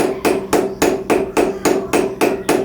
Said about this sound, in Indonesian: bunyi tempaan itu seolah-olah berirama, jadi enak didengar